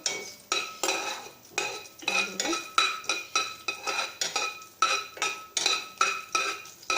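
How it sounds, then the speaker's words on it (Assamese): Fenugreek seeds stirred in a hot pan for a fish dish, a rhythmic series of about a dozen metallic scrapes and clinks of a utensil against the pan, close and fairly loud. "মেথি গুটিকেইটা দিয়াৰ পাছত তাক লৰাই দিব"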